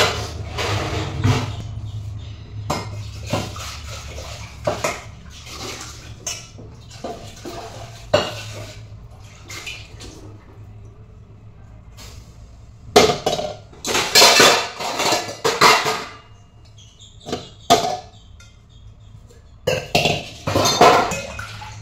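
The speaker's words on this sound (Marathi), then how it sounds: "भांडी आवरून घेते." Dishes and cutlery being tidied up in a home kitchen, with intermittent clattering of steel pots and plates and clinking utensils, in close bursts separated by quieter pauses and growing busier toward the end.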